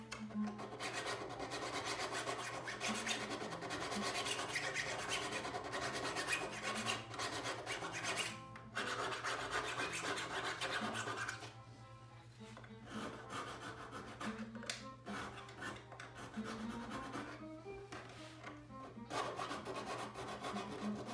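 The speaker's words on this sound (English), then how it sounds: "Sandpaper." Sandpaper rubs steadily across the frets of a classical guitar during a refret, giving a continuous raspy scraping with short pauses between strokes, close and alone.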